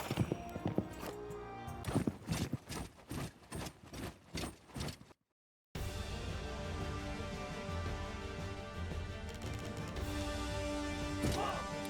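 Horse hooves clop in the Citadelum strategy video game as a rapid run of evenly spaced, loud thudding steps, then a brief silence before a dense battle din of crashes and clatter takes over.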